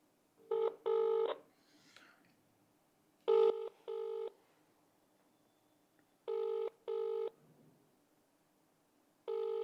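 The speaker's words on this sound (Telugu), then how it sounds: "జైపాల్ యాదవ్ ఫోన్ చేద్దాం." An outgoing phone call is placed: quick bursts of dialing tones followed by a regular ringback pattern of paired buzzing rings, fairly faint and clean with no talk over them.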